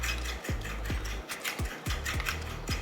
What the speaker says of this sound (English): and then whisk one more time.